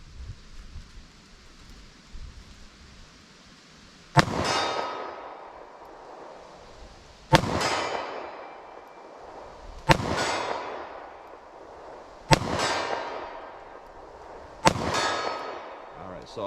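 A short-barrel revolver fires .38 Special +P Speer Gold Dot rounds at a target 40 yards away. Five loud, sharp shots come a few seconds apart, each trailing off in a ringing echo.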